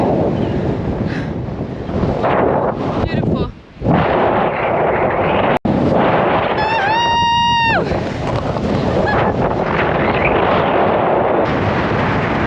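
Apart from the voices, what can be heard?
strong wind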